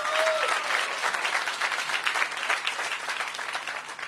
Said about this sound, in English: Please give Ed a round of applause as well.